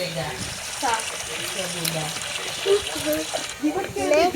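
Water runs from a household tap while hands are washed, a soft continuous splash heard beneath a person talking.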